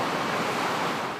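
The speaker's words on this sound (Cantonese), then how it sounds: "湧浪拍岸" Typhoon swell pounds the Heng Fa Chuen waterfront in Hong Kong as gale signal No. 8 is in force, giving a brief, steady, loud wash of breaking surf with a hiss of wind.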